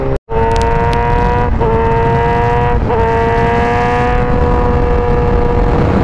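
A 1000cc super sport motorcycle engine screams at high RPM, holding a loud, sustained revving whine with brief dips as it shifts up through the gears.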